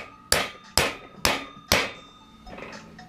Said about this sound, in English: you get this hammer, you got to tap it a little bit so that it gets in there